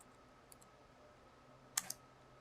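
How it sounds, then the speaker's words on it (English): A few quick keystrokes on a computer keyboard while typing a command, faint and close, with a brief cluster of clicks near the end in an otherwise quiet room. "I'm going to go ahead and type in lftp localhost."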